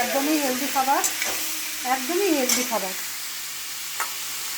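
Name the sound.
stirring butter chicken while cooking in a pan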